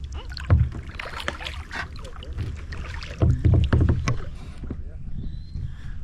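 Kayak paddle strokes splash and knock on a river at dusk, a few irregular dips with louder splashing in the middle, set against light wind noise on the microphone and faint distant sounds, with no talking.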